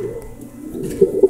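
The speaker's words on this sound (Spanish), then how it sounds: "Solté el palomo de las alas azules que le vendía a mano." A blue-winged pigeon coos up close, a low soft call swelling to two brief louder pulses near the end, heard alone with no voices.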